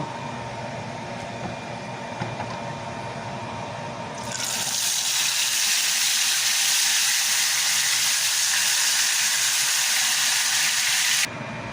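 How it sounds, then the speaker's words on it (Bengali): Fish marinated with turmeric and salt goes into hot oil, and a quiet background gives way to a loud, steady, close sizzle that holds for about seven seconds, then cuts off abruptly. "তেল গরম হয়ে গেছে এখন মাছটা দিয়ে দেব"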